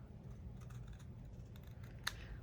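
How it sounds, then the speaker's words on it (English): Scissors cut a paper tag for a junk journal, giving a single faint, sharp snip near the end over quiet room noise, with no talking. "I will take my scissors and just cut that off."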